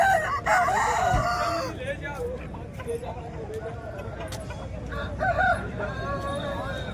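Several roosters crow one after another at a hen market in Bhadradri Kothagudem, loud and close over a dense background of market chatter, with someone talking nearby.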